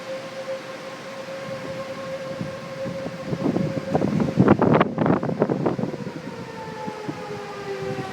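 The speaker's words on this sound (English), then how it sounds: "sirens are going off" Tornado sirens wail in the distance in Omaha, Nebraska, a sustained rising and falling tone that drifts in pitch under heavy wind buffeting the microphone, with a louder gusty stretch midway.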